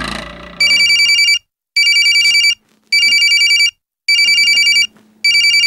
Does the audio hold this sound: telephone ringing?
yes